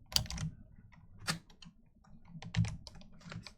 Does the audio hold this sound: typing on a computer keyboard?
yes